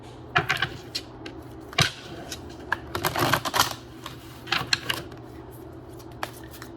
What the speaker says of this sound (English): And pull a couple more cards here.